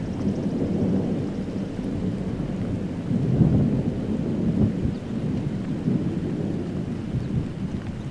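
Steady light rain with a continuous low rumble throughout, fairly even in loudness, with no voices.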